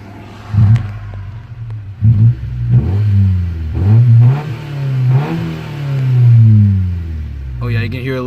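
A 1998 Honda Civic engine revs in neutral, rising and falling in several distinct swells with a low, droning exhaust note heard from close by.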